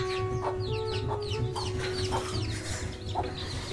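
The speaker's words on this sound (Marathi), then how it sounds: "कोंबड्यांशिवाय घराच्या अंगणात काही मजा नाही." Hens clucking in a village house courtyard: a series of short, evenly spaced clucks close by over a steady low hum, with almost no talking.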